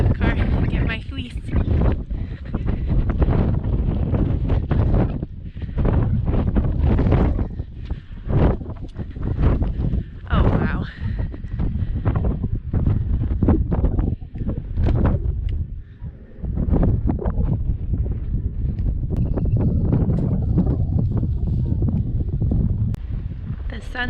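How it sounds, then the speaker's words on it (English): Strong wind on a mountain top in Joshua Tree National Park, gusting and buffeting the microphone loudly and continuously with brief lulls, no clear voices over it. "It's definitely really windy up here."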